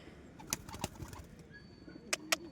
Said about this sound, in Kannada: ಊಟ ಮಾಡಿಸ್ತಾ ಇದ್ದೀವಿ ಪಾರಿವಾಳಗಳಿಗೆ.